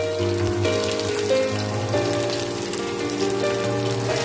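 Potatoes dropped into hot oil already flavoured with bay leaf and dried red chillies crackle in a steady, dense sizzle like rain on a surface, with tonal background music running underneath throughout.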